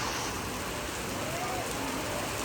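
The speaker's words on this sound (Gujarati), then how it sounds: "ભયંકર વરસાદ ચાલુ થઈ ગયો." Heavy rain pours down near a busy road, forming a dense, unbroken roar of hissing water that stays loud and even throughout.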